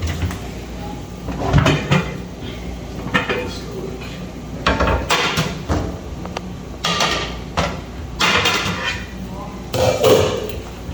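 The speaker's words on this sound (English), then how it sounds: "I'm gonna get a little bigger pot." A pot taken out of a kitchen cupboard for frying eggs: repeated metallic clanks, bangs and rattles of cookware and cupboard doors, loud and close, with people chatting between the knocks.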